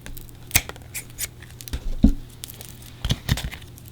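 Scissors cutting paper in half, a handful of crisp close snips with light crinkling between them, soft and intimate in a quiet room.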